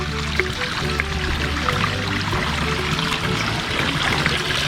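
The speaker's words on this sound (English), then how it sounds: "There's this little waterfall built up." A small built-up waterfall under a eucalyptus-like tree at the Fort Churchill Pony Express station site in Nevada trickles and pours steadily, a continuous close wash of running water with no voices.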